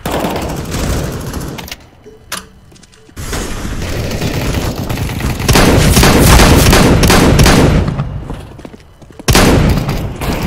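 In Counter-Strike: Global Offensive, loud bursts of gunfire and a sharp flashbang blast ring out up close, with a brief near-silent gap early on, then sustained heavy shooting and a final loud burst.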